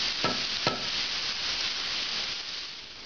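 Vegetables cooking down in a pan over medium-high heat for ossobuco, giving a steady, even sizzle with a couple of brief stirring scrapes near the start, no talk.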